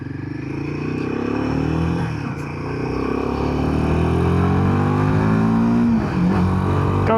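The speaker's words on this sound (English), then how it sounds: "Go, you little 400cc engine." A 400cc motorcycle engine accelerates on an off-road test ride, its pitch climbing steadily through the gears with a rising buzzing drone close to the rider.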